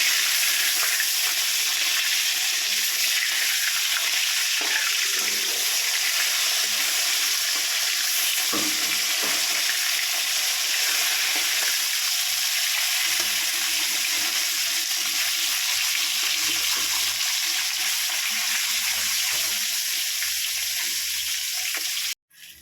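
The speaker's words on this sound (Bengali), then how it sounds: "মাছটা ভাজা হয়ে এসছে" Continuous crackling sizzle of rohu fish frying in hot oil, fairly steady throughout with a few louder pops, no talking.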